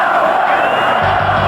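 A loud stadium crowd at a 1997 AFC Wild Card game between the Jacksonville Jaguars and the Denver Broncos in Denver roars and chants in a steady, sustained wall of voices.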